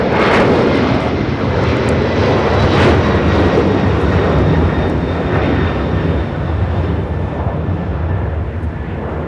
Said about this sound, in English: the Latam 767 heads to Lima, Peru